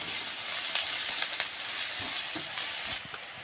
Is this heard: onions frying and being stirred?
yes